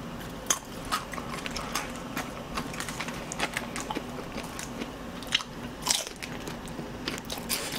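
Crunchy fried chicken, cheese mustard and hot teriyaki flavors, bitten and chewed close to the mic: a loud crisp bite followed by steady crackling crunches and chewing throughout.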